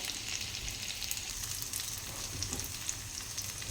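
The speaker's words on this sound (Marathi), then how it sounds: "आणि दुसऱ्या बाजूने सुद्धा गोल्डन ब्राऊन आपण ते फ्राय करून घेऊयात" Bottle gourd dumplings (mutke) shallow fry in a pan with a steady, close, continuous crackling sizzle throughout and no speech.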